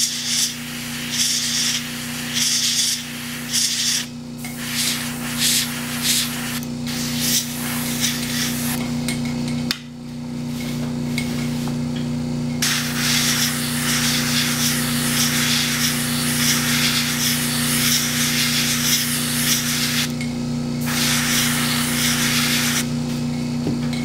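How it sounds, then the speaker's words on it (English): An airbrush sprays paint onto a panel at close range, a continuous airy hiss in bursts that stops and restarts, then a longer unbroken spray over a steady low hum. "Now you can see I'm holding the airbrush about"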